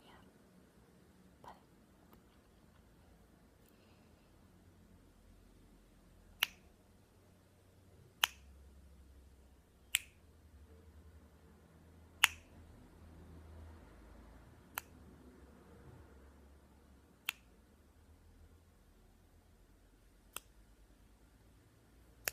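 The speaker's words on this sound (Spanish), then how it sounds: "cómo reaccionan a los chasquidos" About ten sharp finger snaps ring out one at a time at irregular intervals during a cranial nerve exam role play, each crisp and close against a quiet, low background hush.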